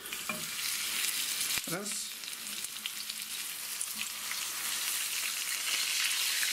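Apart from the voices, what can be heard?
crucian carp frying in a pan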